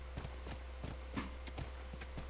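A horse in the video game The Last of Us (PS3) clip-clops along at a walking pace, with regular, fairly soft hoofbeats over a steady low hum.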